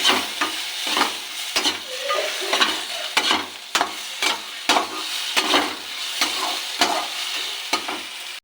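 Chicken pieces frying in a pan with salt and turmeric, a low sizzle broken by repeated sharp scraping stirs of a spatula at an uneven, fairly quick rhythm, close and alone with no talk.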